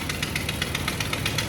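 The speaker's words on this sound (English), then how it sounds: "I was hoping that exhaust leak would cool off some" A 1984 Chevrolet Suburban engine runs with an exhaust leak, giving a steady, rapid ticking and puffing over a low idle rumble, close by with no talking.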